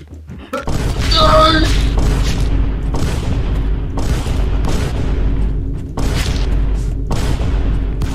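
Assault rifle fire from the video game Stick Fight: The Game rattles loudly and continuously for about eight seconds, with dense booming bursts and brief gaps, while players talk and laugh over it.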